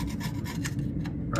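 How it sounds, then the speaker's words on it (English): A scraper rasps grease and grime off a Ford 352 engine casting on a 1971 Ford wrecker, giving short, close, gritty scraping strokes in a quick irregular rhythm. "you scrape all this grease and crap off"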